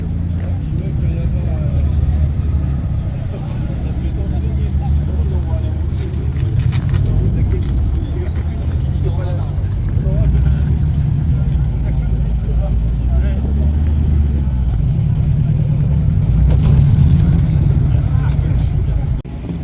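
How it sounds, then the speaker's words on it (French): A yellow Corvette drives past at a car meet with a continuous low engine rumble that swells toward the end, while someone talks over it. "petit Corvette 650 jaune"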